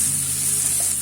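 Carrots sizzling and frying in a pan while being stirred, a steady close hiss of hot oil with faint scraping, alone with no talk.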